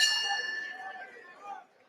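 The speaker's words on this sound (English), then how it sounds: "at the sound of the bell" Boxing ring bell at a Matchroom Boxing event, a single bright clang that rings out and decays over about a second and a half amid faint arena crowd murmur.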